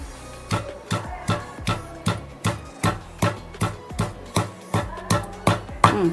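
Garlic pounded with coriander seeds and cumin for tomato rasam gives a dozen evenly spaced, dull thuds in a steady rhythm, close and clear with no talking.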